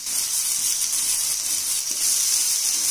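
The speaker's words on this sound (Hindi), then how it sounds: "फ्लेम को स्लो करके मसाला को भूनना है, नहीं तो मसाला जल जाएगा।" Masala spices fry in hot oil in a pan, giving a steady, close hiss and sizzle. The sound runs unbroken for three seconds, with no talk.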